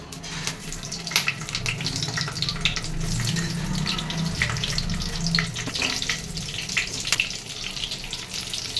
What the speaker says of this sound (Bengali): তেল গরম হয়ে গেছে এবার আমি বেগুনগুলো ভেজে দেবো